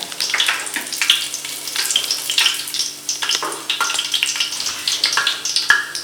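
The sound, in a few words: spices frying in oil and ghee for biryani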